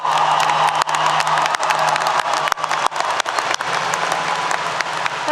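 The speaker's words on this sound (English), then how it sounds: "give yourselves a well-deserved round of applause" A graduating class at a 2022 morning commencement ceremony bursts into sustained, loud applause with scattered cheers and whoops from a large crowd, steady throughout.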